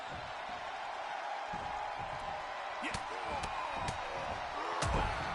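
A shoulder breaker slam in the wrestling video game WWE 2K22 lands as a few sharp thuds over a steady arena crowd roar, with someone talking throughout.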